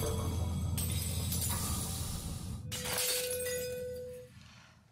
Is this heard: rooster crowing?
no